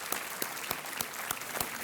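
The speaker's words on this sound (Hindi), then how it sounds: "तालियों के साथ रितुल जोशी जी को हम धन्यवाद देते हैं" Studio audience on the KBC season 6 game show set claps for expert Ritul Joshi, a short, faint burst of irregular hand claps with sharp individual strikes.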